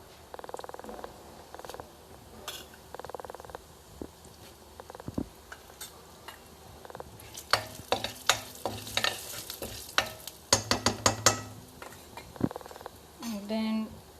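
Cumin seeds crackle and sizzle in hot oil during Mutter Paneer prep, a fairly quiet frying hiss with scattered sharp pops, busier crackling bursts toward the middle and a brief clatter near the end, with no talking.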